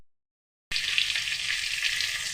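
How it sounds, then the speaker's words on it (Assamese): Fish fries in a pan at home, plainly cooked without turmeric, giving a loud, dense, continuous sizzle. It starts abruptly after a brief silence and holds steady with no talk. "এই মাছ ভাজি আছোঁ"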